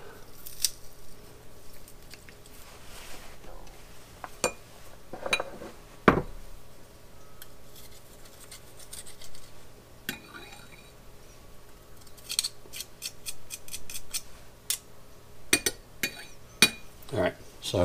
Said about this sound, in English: I'm just gonna put them in the garlic press and do them that way